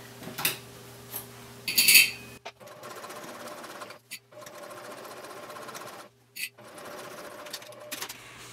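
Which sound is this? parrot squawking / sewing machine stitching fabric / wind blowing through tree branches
sewing machine stitching fabric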